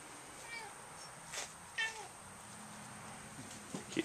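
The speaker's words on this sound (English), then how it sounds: "Kitty cat." A cat meows a few times, short separate calls over a steady background hiss, with faint knot-tying sounds around it while working on a Spanish net.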